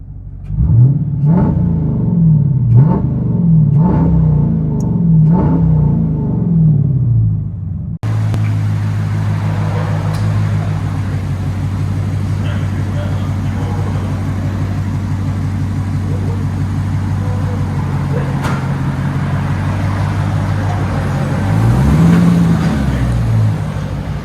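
A manual six-speed Dodge Challenger 5.7L HEMI with loud aftermarket exhaust, heard from inside the cabin, gives a series of quick revs before settling into a heavy, droning low rumble that swells slightly near the end.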